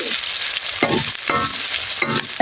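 Masala sizzling steadily in an iron wok while being stirred, with a constant bright hiss of frying broken by several scraping stir strokes, close and fairly loud.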